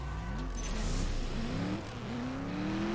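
Chevrolet Bel Air in the CSR2 racing game accelerating hard, engine tone climbing repeatedly through rising gear sweeps with brief drops at each shift, loud and continuous.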